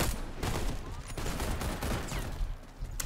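Gunfire from a pistol in the Warface video game, a rapid string of sharp, loud reports blurring into a continuous burst of shots over steady game noise.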